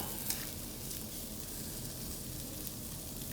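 Vegetable chopsuey stir-frying over medium-high heat, a steady close sizzle with stirring scrapes throughout and no talking.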